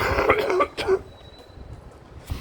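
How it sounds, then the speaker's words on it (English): A few harsh coughs close to the mic in the first second, followed by quiet room noise and a faint breath near the end. "I'm coughing quite a bit still"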